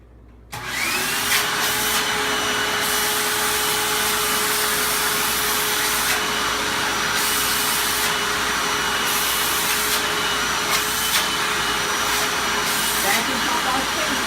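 A household vacuum cleaner runs continuously on the floor around the base of a chair, a loud, steady whooshing drone close by with a faint tonal whine, while people talk intermittently beneath it.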